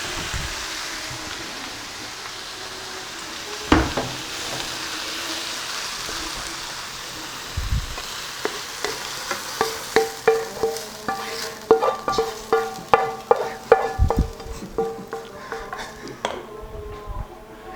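Kookoo, a cabbage omelette mixture, frying in a pan, a soft sizzle under a run of rhythmic utensil taps and scrapes that grow busier toward the end.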